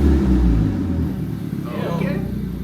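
An Acura Integra engine with no exhaust fitted rumbles loudly nearby, a deep throaty idle swelling with a light throttle blip, while people talk over it.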